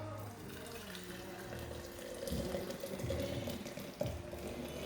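Herbal tincture poured slowly through a strainer, a steady close trickle of liquid running for several seconds, swelling a little louder midway with a faint clink near the end.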